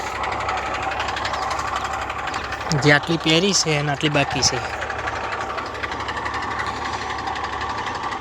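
A farm tractor ploughing a field churns out a steady, rumbling engine drone throughout while someone speaks over it in the middle.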